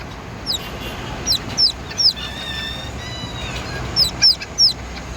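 Chicks of several sizes and quail peep in quick, high chirps, a handful of bright calls in two clusters over a soft steady background hum, near and fairly clear.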